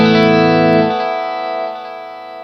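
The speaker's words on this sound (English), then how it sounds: "So now I've taken out all the low end of the repeats." An electric guitar chord rings out through a Free The Tone Flight Time delay pedal set with the low end cut from the repeats, loud at first, then stepping down in volume as the brighter echoes decay over a couple of seconds.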